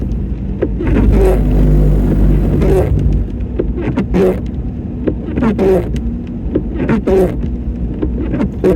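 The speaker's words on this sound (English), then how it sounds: "Oh, that's a vehicle." A vehicle drives past on a snowy road, a loud, sustained low rumble building and peaking early before easing into a steady background hum, with faint scattered knocks and a voice speaking intermittently over it.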